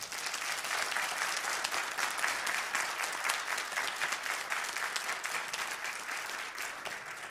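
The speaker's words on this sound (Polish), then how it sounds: "Gorące brawa." Sustained applause from a large concert audience, dense steady clapping filling the hall for several seconds, tapering slightly toward the end.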